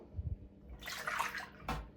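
Cleaned squid is rinsed in a bowl of water at home, with soft sloshing and splashing of hands moving through the water, fairly quiet and close.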